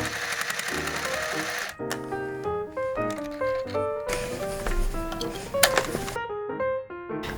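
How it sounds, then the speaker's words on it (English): Sewing machine running along a seam of a drag outfit, a steady mechanical stitching rattle with brief stops and restarts, heard over background music. "So I started sewing along the seam"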